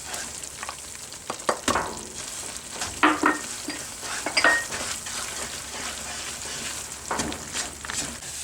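Halwa roasting in a pan with musli, singhara and satavar powders, a continuous sizzle broken by repeated scraping and stirring strokes of a spoon against the pan.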